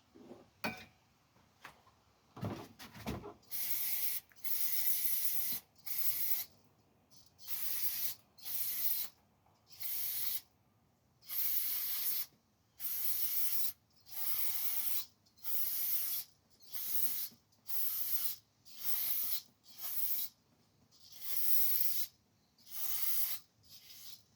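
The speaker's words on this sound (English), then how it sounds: "What I was doing there was using brake cleaner, clean some of the tank" Aerosol brake cleaner sprayed over a gas tank from a Murray machine: about fifteen close, loud hissing bursts, each lasting roughly a second, in an uneven rhythm with short pauses, after a few faint clicks, no voices.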